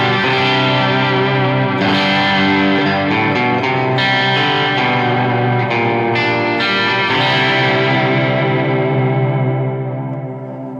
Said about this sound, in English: you can even make more of a wave with the delay and the reverb and this thing shaking